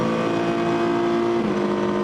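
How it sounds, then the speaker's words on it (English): Number 55 Renault race car in VLN endurance racing at the Nürburgring, its engine note droning steadily and fairly loud as it passes, a sustained tonal whine with no voices. "That familiar engine note."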